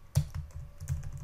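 Keys tapped on a computer keyboard while typing a file name, a few distinct close clicks with a short pause between bursts, fairly quiet.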